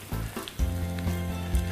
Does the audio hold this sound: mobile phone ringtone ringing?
no